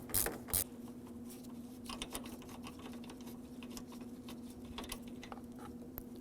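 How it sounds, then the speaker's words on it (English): Ratchet clicking while removing a radiator bolt on a 2009-2010 Dodge Ram 1500 with a 5.7L V8: a few sharp clicks at the start, then quieter, irregular ratcheting over a steady hum. "So we're going to remove this bolt."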